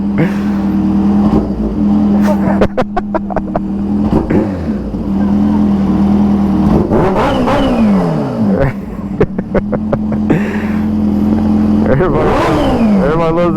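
A Kawasaki Ninja H2 motorcycle engine idles loudly at a gas station and is blipped in several sharp revs that rise and fall, heard close under frequent talking.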